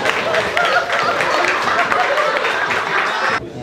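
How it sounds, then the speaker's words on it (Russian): Audience applause at a reunion gathering, a dense, loud wash of clapping that holds steady for a few seconds and then cuts off abruptly. "Аплодисменты Витя Башкову."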